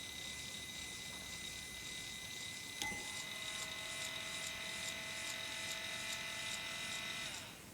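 A small electric motor spins a propeller with a steady high-pitched whine and buzz, then a click partway through brings a shift to rising tonal hum that holds before cutting off near the end.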